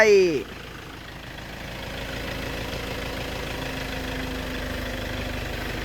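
A truck engine idles in rural Thailand with a faint, even, low hum held steady after a brief sweeping vocal-like sound at the very start.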